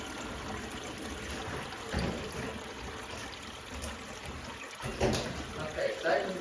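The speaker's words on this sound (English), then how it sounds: "Okay, siphon's running." An aquarium siphon runs water between glass tanks, producing a continuous trickling, gurgling flow with a few louder splashy surges, and voices talk faintly alongside.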